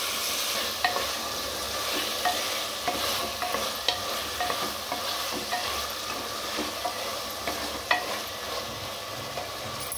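Vegetables for sambar, including red pumpkin, potato, brinjal, carrot and drumstick, fry with onion and tomato in a pan, giving a continuous close sizzle broken by repeated scraping stirs of a spoon.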